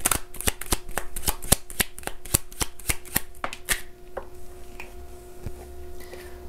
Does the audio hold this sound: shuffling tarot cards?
yes